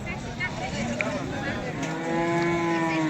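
A Murrah buffalo at the Ghodegaon buffalo market lets out a long, low moo that swells toward the end, heard close over general market noise and voices.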